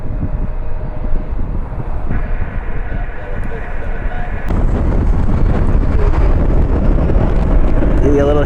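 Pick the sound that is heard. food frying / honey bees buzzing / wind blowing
wind blowing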